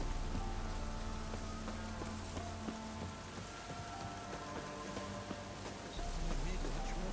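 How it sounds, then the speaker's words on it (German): Steady in-game rain from The Witcher 3, a continuous broadband hiss of drops on surfaces that fills the whole stretch at even loudness, with faint low ambient hum beneath. "Sieht nach Regen aus."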